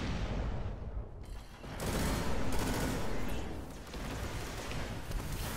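Enemy gunfire in the shooter game Destiny rattles in dense, sustained bursts, loud and close, with a brief lull near the start before the shooting resumes heavily.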